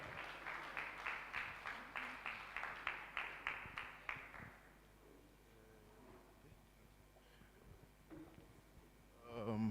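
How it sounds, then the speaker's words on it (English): A small audience at a West African pig farmers' forum claps in an even rhythm for about four seconds, the beats distinct and moderately close, then the room falls quiet with faint murmur. "So give a round of applause to Mr."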